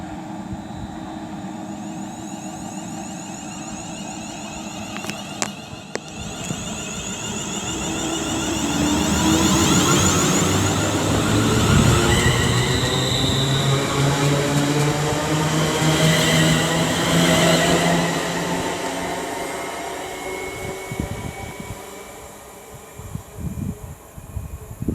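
A train pulls away from Marston Green station on the West Coast Main Line, its engine rumble and rising, shifting tones swelling over about ten seconds, then easing as it recedes, with faint clicks at the start.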